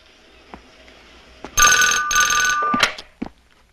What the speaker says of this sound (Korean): 전화를 받으십시오.